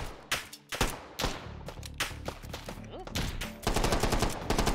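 Several sharp gunshots ring out in the VR shooter H3VR, loud and close, as single and quick repeated shots with mechanical handling clicks between them. Faint talk comes in briefly.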